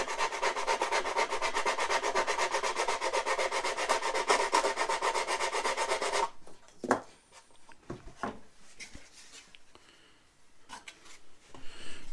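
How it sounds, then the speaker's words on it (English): A wooden dihedral brace on a model airplane wing is sanded in fast, rhythmic back-and-forth rubbing strokes up close for about six seconds, followed by quieter handling taps and scrapes. "I'm going to sand this outside dihedral brace just a little bit on the end"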